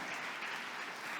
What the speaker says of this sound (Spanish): ¿Cuánto damos un fuerte aplauso, Señor, por ello?